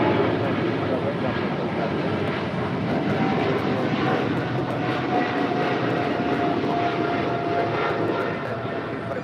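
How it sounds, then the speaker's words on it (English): A China Airlines cargo jet rolls for takeoff on runway 25 right at LAX, its engines a loud, sustained roar, while a voice talks faintly underneath. "We have China Airlines cargo now rolling on 25 right, flight 5224, taking off to Miami."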